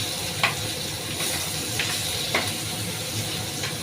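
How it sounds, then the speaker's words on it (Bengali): Potato pieces fry in hot oil in a pan with a steady, fairly quiet sizzle broken by a few faint clicks, and no speech over it. "তো বন্ধুরা, আমি আলুগুলো ভেজে নিচ্ছি।"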